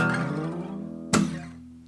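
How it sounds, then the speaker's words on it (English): A sustained strummed acoustic guitar chord rings and fades, then a single sharp palm-muted down strum cuts in and slides down, decaying, with no voices. "I do another down strum palm mute and I slide back down."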